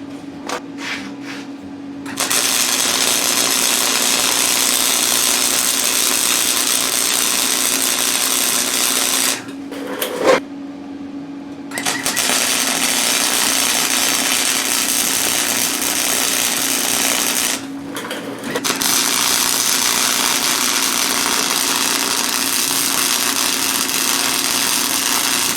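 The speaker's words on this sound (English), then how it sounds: "now we're going to try and weld the nut onto the washer." A welder fuses a nut onto a washer on an MTD carrier. It makes a loud, close, continuous crackling hiss over a steady hum, broken by several short pauses.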